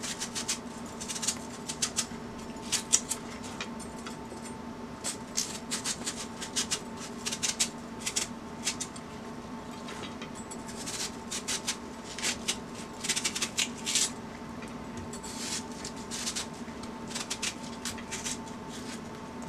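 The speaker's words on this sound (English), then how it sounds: "just going to cut it and then take the skin off" Knife cutting fruit and paring away its skin for a Mexican-style fruit salad makes soft, irregular scraping and rubbing strokes in short bursts, close and fairly quiet, with no talk.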